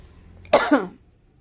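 A single short cough, close and fairly soft, followed by quiet.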